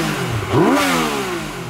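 Motorcycle engine fitted with a steering damper blips once, its pitch sweeping sharply upward then settling back to a rough idle, loud and close.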